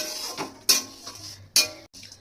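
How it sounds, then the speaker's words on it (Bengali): Flattened rice (chira) dry-roasting in a pan with no oil, heard as a few sharp scraping, rattling stirs against the metal over a soft, dry background, close and fairly quiet. "তো প্রথমে চিড়েটা ভালো করে শুকনো খোলায় ভেজে নেব।"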